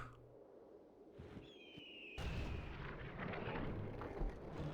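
Defensive towers fire on a retreating unit in the Fourth Age Total War strategy game, a faint hiss building to a sudden heavy boom and sustained rumbling barrage.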